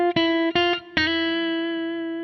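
A short melodic motive on an electric guitar with a distorted, effects-laden tone: three quick plucked notes, then a final note left ringing and slowly fading, played alone.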